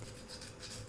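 Hand file rasping casting lines off a die-cast model Corvette Stingray body, a faint steady scraping with short back-and-forth strokes.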